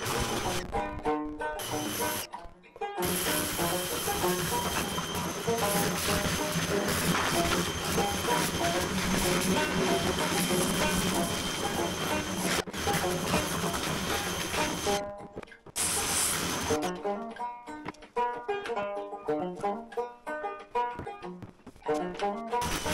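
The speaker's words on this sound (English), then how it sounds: "let's start by getting that pressure washer out here." A pressure washer sprays a paddle boat outdoors, a loud continuous hissing roar that runs for long stretches, cutting out briefly a few times and ending in choppier, intermittent spraying.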